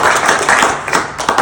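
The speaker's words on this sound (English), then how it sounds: "Give yourself a round of applause." A small group applauds in an umpiring course session, a dense burst of hand claps that stays fairly loud and steady for about a second and a half, with a few sharper claps near the end.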